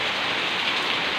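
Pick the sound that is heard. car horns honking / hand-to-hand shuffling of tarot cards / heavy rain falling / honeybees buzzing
heavy rain falling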